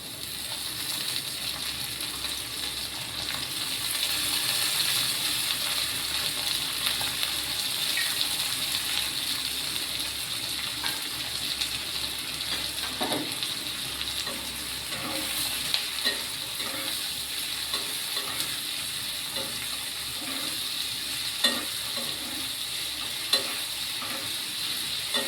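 Diced potatoes frying in a pan, a steady close sizzle with occasional stirring clinks and scrapes throughout, no voices.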